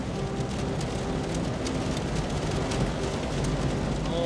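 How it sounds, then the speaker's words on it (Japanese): Heavy rain drums on a car while it drives through Niigata on a snowy road trip. The heard sound is a steady, dense wash of rain over a low rumble, with no voices. "すごい雨だな。"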